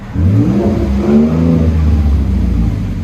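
A 2012 Ford F-150 with the 3.5L EcoBoost V6 and Borla Pro-XS dual exhaust revs up loudly and close, holding a deep, droning roar up to the rev limiter before easing off slightly.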